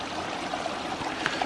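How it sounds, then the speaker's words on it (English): A small side stream in Bankhead National Forest, Alabama, runs full of water, giving a continuous close trickling and babbling rush with a few brighter splashes rising briefly above the steady flow. "This little side stream is so unexpectedly"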